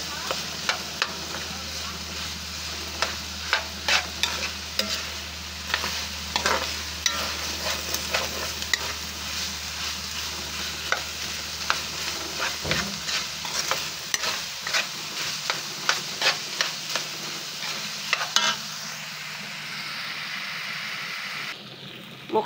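A hotdog fries and gets stirred in a pan, with a continuous sizzle under repeated sharp scraping and clacking strokes of a utensil, close and fairly busy, easing off toward the end.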